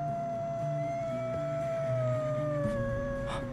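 Dogs howl in a video game, a steady sustained wail with slowly gliding pitch over a busy game soundtrack, loud and continuous throughout.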